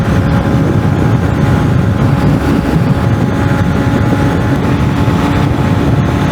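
A 2023 Honda motorcycle with performance upgrades on stock gearing rolls downhill, its engine giving a loud, steady, rumbling drone mixed with rushing wind noise the whole way through.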